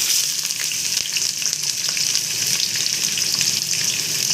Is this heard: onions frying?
yes